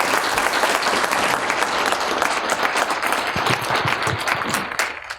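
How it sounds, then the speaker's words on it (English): An audience at a company vision and culture meeting bursts into sustained applause for a colleague named John, dense close clapping that holds steady and then tapers off at the end. "Let's give John a round of applause"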